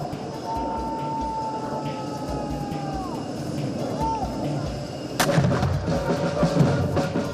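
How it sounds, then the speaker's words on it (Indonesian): Ceremonial cannon fire of a 21-gun salute at Halim Perdanakusuma airport, heard as a sharp broadband boom about five seconds in over a low rumbling background, with a faint whistle earlier and lingering rolling noise afterward. "21 kali dentuman kehormatan menemani perjalanan Presiden Prabowo dan Raja Abdullah II"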